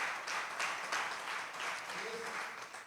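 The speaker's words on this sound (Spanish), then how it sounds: "Dale fuerte las palmas al Espíritu Santo" Congregation clapping hands in rhythm during a church service, a steady dense patter of many palms sustained throughout, with a faint voice underneath.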